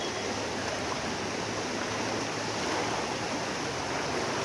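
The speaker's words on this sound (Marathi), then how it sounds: "अजून पूर्ण नाल्याचं गंद पाणी इकडे वाहत येत आहे." Dirty drain floodwater flows across a road in Pune, a constant, hissing rush of moving water heard close up, unbroken and even for the whole stretch, with no talking.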